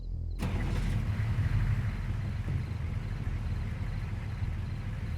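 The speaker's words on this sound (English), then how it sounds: "He orders his driver to start the engine." Diesel engine of a Daimler Mark II armoured car in the Sea Power video game starting up with a sharp onset, then settling into a loud, steady low rumble close by, alone without voices.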